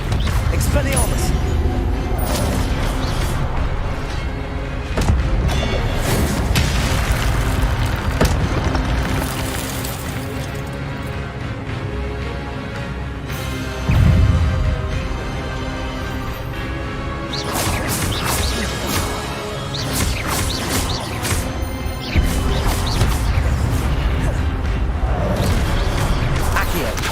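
Hogwarts Legacy spell combat with Levioso, Incendio, Accio and Expelliarmus, a dense continuous wash of magical blasts, whooshes and booming impacts with music, loud throughout, a player voice calling spell names over it.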